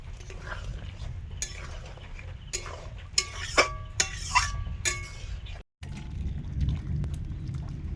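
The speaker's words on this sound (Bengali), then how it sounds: "এবার দিলাম কাঁচা লঙ্কা, এবার দিচ্ছি চিনি" Spoon and utensil clinks in a pot as green chili and sugar go into a tangy pangas fish curry with tamarind, with light scraping and stirring over a steady low kitchen hum, and a brief silent gap near the end.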